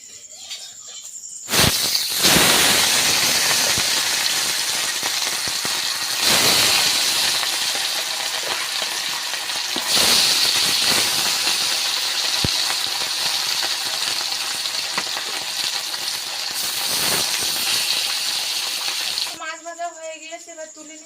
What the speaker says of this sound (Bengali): আর এখন তেলটা গরম হয়ে গিয়েছে এবার মাছগুলো আস্তে আস্তে তেলে দিয়ে ভেজে নেবো